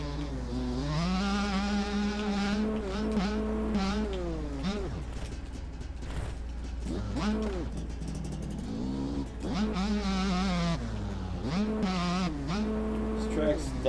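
Factory 144 dirt bikes ride a motocross track, engines revving up and down in rising and falling whines, loud and close, with brief dips between bursts and faint voices underneath.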